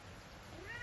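A cat meows once, faint and close, in a quiet indoor setting.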